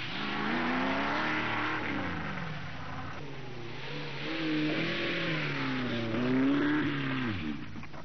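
Competition vehicles at a muddy 1981 rally, engines revving and rising and falling in pitch as they labour through the track, loud and fairly close with a continuous roar.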